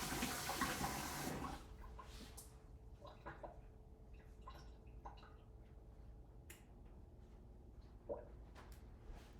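A teaspoon is rinsed under a running kitchen tap while baking apple strudel: a loud gush of water for the first second and a half, then quieter clinks, drips and handling noises at close range.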